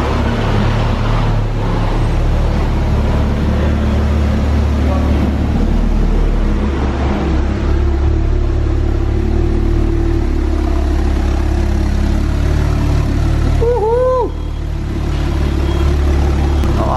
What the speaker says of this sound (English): I'm going to let you drive it out so that I can film it coming out